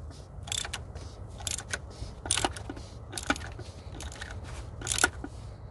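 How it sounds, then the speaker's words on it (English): A ratchet with an oil filter socket tightens the oil filter on a 2005 Chevy Malibu with a 2.2 Ecotec engine, clicking in short irregular bursts of pawl ticks at close range against a quiet background. "get your ratchet and the oil filter socket and go over it and tighten it again"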